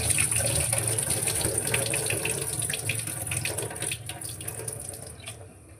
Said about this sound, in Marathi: हे तांदळामधलं सर्व पाणी गाळून घेतलं आहे।